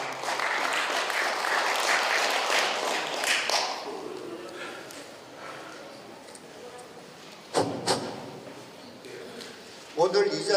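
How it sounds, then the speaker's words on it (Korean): Audience applause at a Korean NGO broadcaster's opening ceremony, sustained for about four seconds and then fading. A speaker talks afterward, with a few scattered thumps toward the end. "뜨거운 박수 부탁드리겠습니다."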